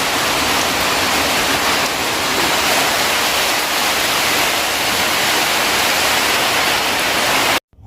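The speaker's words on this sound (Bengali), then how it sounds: "আজকে এসেছে তো আজকেই এত পরিমাণে বৃষ্টি আসলো যে কাজই করতে পারছে না ঠিকমতো" Heavy rain pouring down outside a home, a loud dense continuous roar of water that cuts off abruptly at the end.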